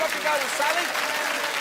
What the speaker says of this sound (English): give him a nice round of applause, folks